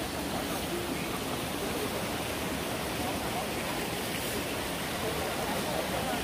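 A forest stream runs past a campsite near a waterfall, making a steady, full rushing wash that stays close and even throughout.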